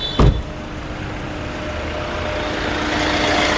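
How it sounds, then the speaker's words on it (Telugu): A 2017 Hyundai Creta 1.4 S+ diesel idles nearby with a steady low rumble and a faint hum. A short sharp clunk comes near the start, and the idle grows slightly louder toward the end. "ఇంజన్ ఆల్రెడీ స్టార్టింగ్లో ఉంది"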